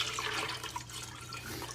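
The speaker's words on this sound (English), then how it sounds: "Now we're going to add our sugar water." Sugar water pours steadily into a jug of homemade blackberry wine, a continuous splashing, gurgling stream heard up close for the whole stretch over a low steady hum.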